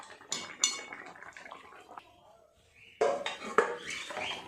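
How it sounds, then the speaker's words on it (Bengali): A metal kadai is cleaned in a home kitchen with sharp clanks and scrapes of metal in short irregular bursts, mixed with splashing water, a quieter pause in the middle, then another busy stretch of clatter. "কড়াইটা পরিষ্কার করে আবার গ্যাসে বসিয়ে দেব"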